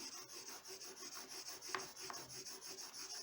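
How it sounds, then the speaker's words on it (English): A flat bloodstone agate burnisher is drawn across a sprinkled gold book edge, making a soft, steady rubbing rasp with a faint high whine behind it and one or two small clicks. No voices. "I'm using a flat agate burnisher"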